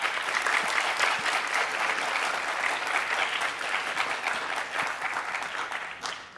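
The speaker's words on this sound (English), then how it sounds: "give you a big round of applause" A big round of applause from an audience at a music scholar recital, sustained and fairly loud, dense clapping that slowly thins and fades near the end.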